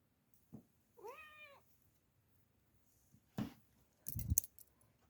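A pet cat lets out one short, clear meow in a quiet indoor room, followed by a few soft knocks and rustles nearby.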